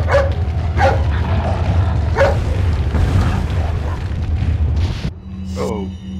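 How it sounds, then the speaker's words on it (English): A dog in Resident Evil 4 gives a series of loud, close barks and yips in separate bursts over a low rumbling game background, with a brief thud near the end. "Hey, it's that dog."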